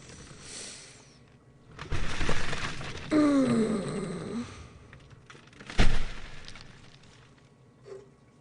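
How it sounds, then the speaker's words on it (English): Muffled burial sequence from the horror adventure game The Last Door: a low rumbling thud, a grinding scrape with a rising creak, then a sharp heavy impact near the end, with quiet gaps between. "This is the sound of being buried."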